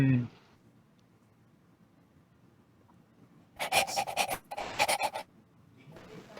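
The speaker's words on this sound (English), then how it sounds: "Blaze asked while panting" Dog panting in rapid, breathy bursts that come in two close clusters, with a brief voice at the very start and quiet pauses between.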